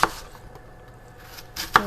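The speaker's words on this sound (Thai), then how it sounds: "หั่นแอปเปิลกันค่ะ" A knife chops sharply through an apple on a board, two crisp cuts with a quiet pause between and a lighter tap near the end.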